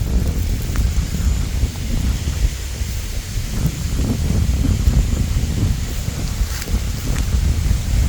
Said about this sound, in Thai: ลมพัดแรงค่ะพี่น้อง FC พัด แรงมาก นะคะ